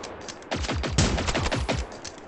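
Rapid automatic gunfire in the video game Generation Zero, a burst of closely spaced loud shots lasting about a second and a half with no talk over it.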